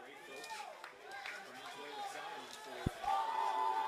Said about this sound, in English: Crowd starts to make some noise here at Langhorst Field